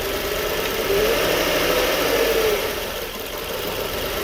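The engine of a Jaguar car that had been buried in snow runs at a steady idle, close by and fairly loud, with a slight swell partway through.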